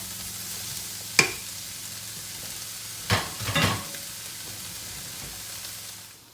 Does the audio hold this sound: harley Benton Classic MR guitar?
no